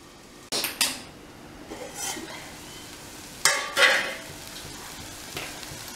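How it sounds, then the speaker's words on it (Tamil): Tomatoes sautéing with salt in a pan, a faint sizzle under scattered spoon scrapes and stirring clatter, with two louder bursts of stirring near the middle. "தக்காளி வதங்கிறதுக்கு கொஞ்சம் உப்பு போட்டுக்கலாம் தக்காளி கொஞ்சம் வதங்கட்டும்"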